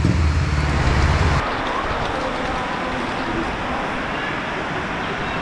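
Heavy rain falls outdoors on a remote island village, a dense steady hiss with a low rumble that drops at the start before the downpour carries on evenly, close and enveloping.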